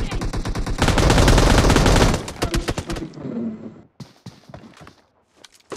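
Automatic gunfire in the PUBG Mobile battle royale game: a dense, loud run of rapid shots for about two seconds, then scattered single shots and bursts with gaps between them.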